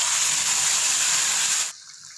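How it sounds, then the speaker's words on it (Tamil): Ground chutney paste for an onion-free tomato side dish pours into a cooking pan as a steady, close gushing hiss that runs for under two seconds, then cuts off abruptly into quiet. "அரைச்சி வச்ச பேஸ்ட்டை ஊற்றிடலாங்க."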